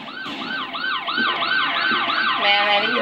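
Police car siren in the game GTA San Andreas, a loud repeating wail sweeping up and down steadily, with a second overlapping siren tone joining near the end over faint road noise.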